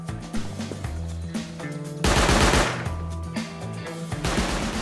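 Automated turret in the game Rust firing continuous bursts of gunfire, loud and close, with a denser, heavier volley in the middle before the shots thin out again.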